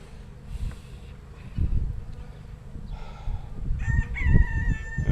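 Honeybees in a nucleus colony hive box make a steady low buzz. The hum swells at intervals and stays close, with a sharper whine near the end and a faint rooster crowing somewhere in the distance.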